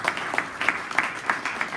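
An audience at a ceremony claps together, a steady run of rhythmic applause at moderate distance, alone without talk.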